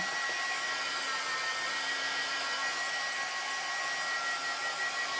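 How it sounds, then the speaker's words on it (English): A hair dryer blows a steady, loud, unbroken whir while drying a freshly made design on a banner garland, running alone without pause for several seconds. "So we want to hit it with the dryer now."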